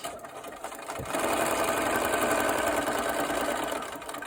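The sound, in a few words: sewing machine stitching a paper-pieced sailboat block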